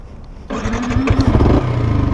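A 2020 Yamaha MT-125 motorcycle cranks and fires up after a quiet half second, then settles into a loud, steady close-range idle with a few throttle blips.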